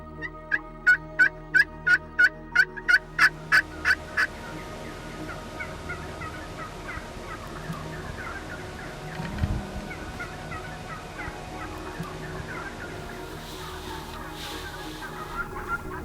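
Wild turkey toms gobbling in a rapid burst of repeated calls at moderate distance, followed by quieter open-field ambience with faint scattered bird sounds during a Nebraska spring turkey hunt.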